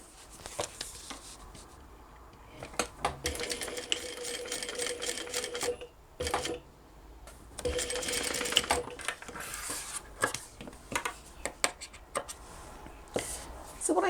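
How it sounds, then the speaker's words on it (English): A sewing machine runs in short, uneven bursts while stitching around the curved edge of a cross-body bag, with quiet pauses and small clicks between the runs. "Now we want to sew around the curve."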